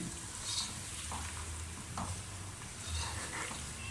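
Mutton korma frying and being stirred in a pan, a steady close sizzle with occasional scraping stir strokes, no voices.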